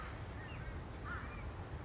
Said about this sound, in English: I've got crows, I've got magpies, I saw a kookaburra before.